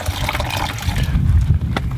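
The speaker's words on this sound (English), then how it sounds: "Put a bit of water into that chamois there." Water splashes and trickles into a chamois during an exterior wash of a muddy 4x4, a steady close wet pouring sound lasting about two seconds.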